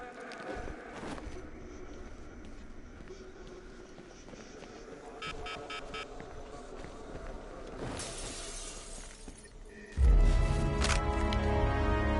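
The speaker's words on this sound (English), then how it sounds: "Could have sworn I heard broken glass." Glass breaks in the video game Batman Arkham Knight, a sharp shattering amid ambient game sounds, followed by a louder, sustained rumble toward the end.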